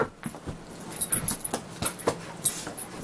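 A hyper, happy puppy gives repeated short whimpers and yips at close range, spread through the moment with no talking.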